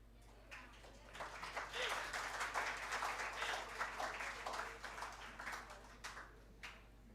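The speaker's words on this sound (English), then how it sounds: "Give me a cheer." Audience at an international conference cheering and applauding on request, a faint, scattered burst of clapping with a few voices that swells, holds for several seconds and tapers off over a low electrical hum.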